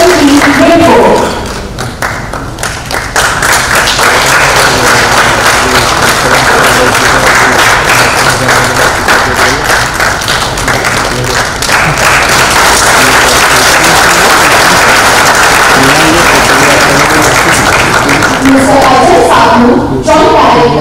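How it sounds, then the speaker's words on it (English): An auditorium crowd at a company's second anniversary celebration gives sustained, dense applause to welcome dignitaries, loud and steady for about twenty seconds with voices mixed in, thinning out near the end. "Let's have a huge round of applause, please."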